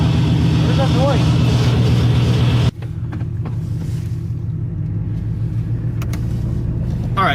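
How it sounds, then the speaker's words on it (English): Chevy Silverado pickup on a test drive after a junkyard locker install, a steady loud engine and road rumble heard from inside the cab, with a voice talking over it and a brief change in tone partway through. "We're doing the test drive."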